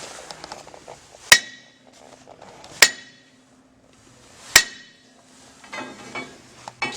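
Three loud, ringing metallic hammer strikes spaced a second or two apart drive a socket on while a mechanical front wheel drive is installed, with quieter shop clatter between the blows.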